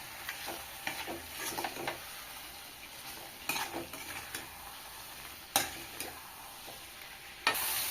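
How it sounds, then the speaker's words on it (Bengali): Chicken curry stir-frying with a little water, a soft continuous sizzle under repeated scraping strokes of a spatula against the pan, a few sharper knocks spaced irregularly, quiet and close, no talking. "সামান্য জল দেব, জল দিয়ে আবারও কষিয়ে নেব।"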